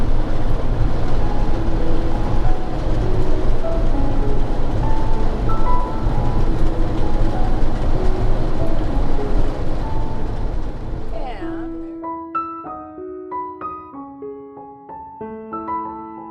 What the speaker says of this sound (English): So you wonder where all your Amazon packages are. They're on this train.